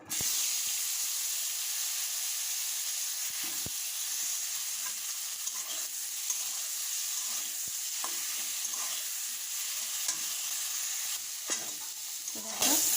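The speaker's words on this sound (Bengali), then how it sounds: "এখন বেগুনগুলো ভেজে নেব" Brinjal (eggplant) pieces fry in a wok with salt and turmeric, giving a steady loud sizzle throughout, broken now and then by scraping stirs and a few sharp clinks against the pan.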